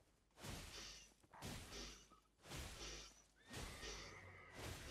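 A horse neighs and whinnies several times in Elden Ring, the calls coming in repeated bursts with whooshing swings and thuds mixed in. No one speaks.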